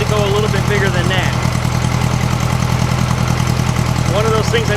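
Rotten old 1956 VW Beetle air-cooled engine idling after a carburetor swap with a bigger main jet, a loud, steady, close-up putter that never revs, while someone talks over it.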